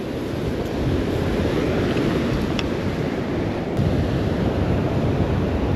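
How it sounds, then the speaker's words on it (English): Rough ocean surf breaks on a beach ahead of a storm, a loud continuous roar of waves and wind buffeting the microphone with no lulls. "This surf is rough. It's really rough, man"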